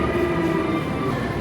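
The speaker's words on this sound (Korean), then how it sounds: "자, 지하철이 왔네요." A metro train pulls into a station in Medellín, Colombia, with a loud, steady rumble and a sustained mechanical hum; no one speaks.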